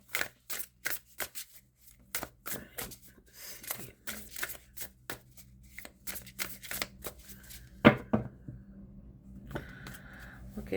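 Tarot cards being shuffled in quick riffling bursts, with brief pauses between, close up and fairly quiet, with a sharper riffle near the end.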